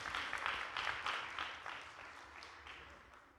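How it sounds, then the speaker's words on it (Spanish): A church congregation applauds during a Wednesday service, a steady, fairly distant wash of clapping that slowly fades over a few seconds. "Dale un fuerte aplauso a nuestro Dios."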